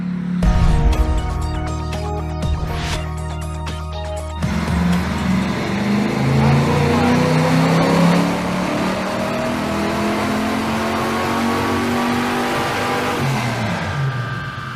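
A car engine accelerates hard in second gear, its loud roar climbing steadily in pitch after a brief lower-pitched rumble, with no voices over it.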